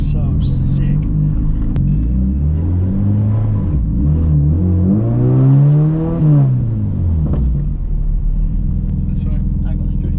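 A K24-swapped FRS engine revs hard while driving, its pitch sweeping up sharply and falling back in a loud rising-and-falling pull, with excited voices talking over the car.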